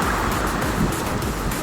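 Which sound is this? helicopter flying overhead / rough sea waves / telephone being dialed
rough sea waves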